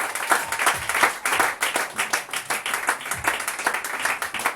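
A church congregation applauding and clapping in praise, loud and close, a dense steady burst of many hands with rhythmic clapping running throughout and faint voices mixed in.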